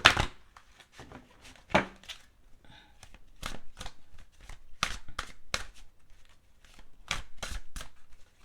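Angel oracle cards shuffled by hand in a series of crisp, riffling bursts, some louder and closer than others, with short pauses between; no talking.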